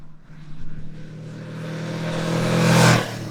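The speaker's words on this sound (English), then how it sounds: "You could hear the induction sound a lot more." Kawasaki Versys motorcycle accelerating through the gears with induction roar, engine note building steadily to a loud close peak, then easing off.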